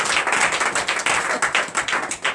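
A church congregation claps and applauds in praise during an evening worship service, a dense burst of close, rhythmic hand claps throughout.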